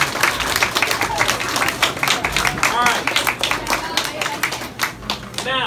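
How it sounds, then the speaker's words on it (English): An audience at a school art hall of fame event gives a round of applause for two student winners, lively uneven clapping close by with a few voices talking over it. "can I get a round of applause for Brooklyn and Jeremy?"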